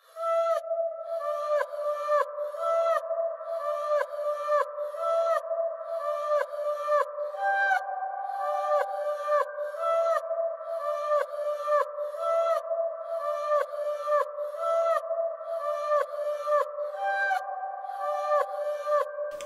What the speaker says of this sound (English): the vocal chop melody ended up sounding like this.